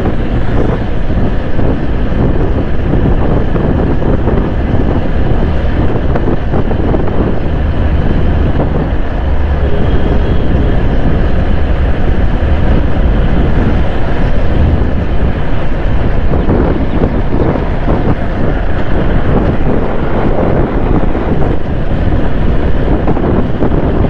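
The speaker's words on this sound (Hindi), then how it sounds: "मोटरसाइकिल बहुत ज़्यादा उछल कूद कर रही है भाई।" A motorcycle jolting over uneven paver blocks in an underpass after heavy rain, heard as a continuous loud rumble of engine and road noise heavily buffeted by wind against the microphone, with no talk.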